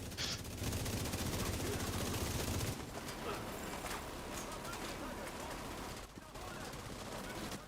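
Rapid automatic gunfire crackles continuously through a firefight in The Division 2, loud and dense for the first few seconds, then continuing slightly thinner, with voices faintly underneath.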